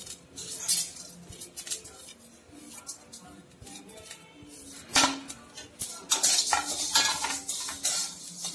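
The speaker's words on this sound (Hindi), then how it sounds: "अब मैं सौंफ डालती हूँ, देखिए फूटने लगा है, आवाज भी होने लगा हल्का।" Fennel seeds crackle and pop in hot oil, with the clink and scrape of a metal spoon stirring in a pan nearby.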